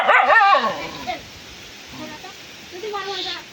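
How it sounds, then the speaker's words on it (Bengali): A couple of dogs yip and whimper close by, with a burst of high yelps at the start and fainter whining cries later. "এই কুকুরগুলোর মজা দেখ।"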